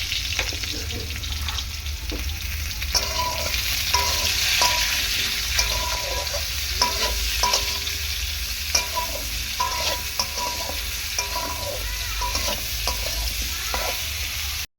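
Lentils cooked with papaya are stirred in a pot, making repeated rhythmic scraping over a steady hiss of sizzling, with no speech.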